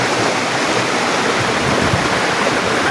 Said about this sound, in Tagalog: Falls na to, napakataas.